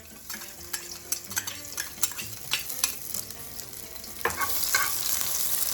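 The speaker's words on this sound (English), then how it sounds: "When you're frying garlic." Oil sizzles and crackles steadily in a pan as garlic fries, with scattered pops and light scraping stirs, growing fuller toward the end.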